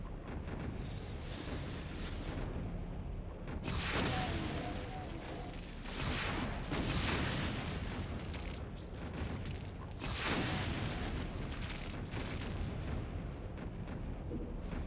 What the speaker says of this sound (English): I have a feeling that the mastermind is fighting some imps. Because that's non-stop shooting.